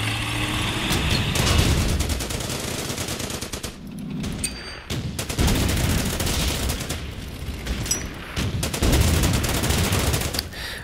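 Stuart tank attack in the Pacific war strategy game Order of Battle: Pacific, with loud, dense bursts of gunfire and booming impacts in sustained volleys and a short lull midway.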